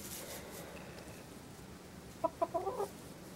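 Backyard chickens give a short run of clucks, a burst of four or five quick notes near the end, heard over steady outdoor background noise.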